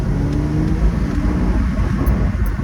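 A Porsche Boxster S engine runs loud and close with a steady low rumble and rough idle texture, briefly revving without any talk over it.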